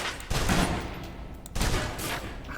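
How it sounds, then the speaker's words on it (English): A submachine gun in Alpha Protocol fires in two sustained bursts as a clip is emptied, rapid crackling shots with a brief break between them, close and fairly loud. "Now, let's move on to the submachine gun. Now let's empty the clip."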